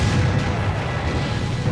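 Historical cannons firing at a Civil War battlefield reenactment at Pea Ridge in Arkansas, a loud, dense rumbling boom that fills the whole stretch, outdoors and close by.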